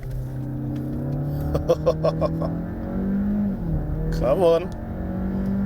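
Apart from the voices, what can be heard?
Volkswagen Tiguan R-Line 1.5 litre turbo SUV accelerating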